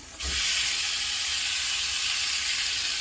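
Ribeye steak bites with their fat go into a hot cast iron skillet. A loud, bright sizzle starts abruptly and hisses on steadily and close up, with nothing else over it.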